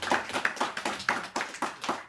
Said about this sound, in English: I didn't deserve this applause